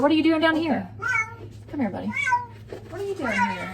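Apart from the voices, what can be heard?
cat meowing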